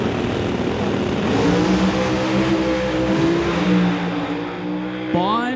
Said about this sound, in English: ready to go with Riethmeyer and Bond again, the 2 supercharged combos, the screw-blown Camaro over here in the TCS side, and the Root supercharged Mustang